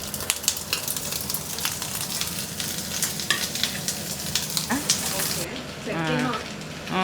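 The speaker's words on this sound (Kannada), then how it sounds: "ಆ್ಯಂಡ್ ನಾವು ಕೋಕೋನಟ್ ಆಯಿಲ್ ಯೂಸ್ ಮಾಡೋದು. ಸ್ವಲ್ಪ ಈರುಳ್ಳಿ ಫ್ರೈ ಮಾಡ್ಕೊತಾ ಇದ್ದೀನಿ" Chopped onions fry in hot coconut oil with a steady, crackling sizzle and occasional utensil scrapes and taps, and a voice speaks briefly near the end.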